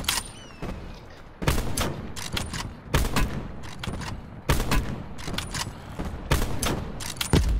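Gunfire in the video game Call of Duty Blackout, with rapid bursts of shots and sharp, loud cracks in quick clusters, several volleys separated by short pauses, up close in the mix.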